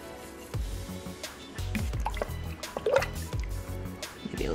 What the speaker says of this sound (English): Deglazing the pan.